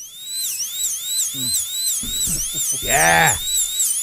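Whining dentist's drill sound effect, a high, wavering pitch that sweeps up and down continuously, played during a live-streamed talk show while people speak over it.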